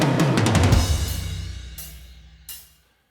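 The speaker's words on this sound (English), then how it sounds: "there's a drum fill that sounds like this" A drum fill in a nearly finished song mix: a rapid run of tom and snare hits over low bass, then two sharp cymbal-like crashes that decay into quiet.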